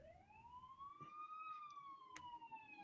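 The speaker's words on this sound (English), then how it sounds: "got more sirens going by." A siren wails in a single long rising and falling sweep, fairly faint and distant, with a passing vehicle's hum underneath.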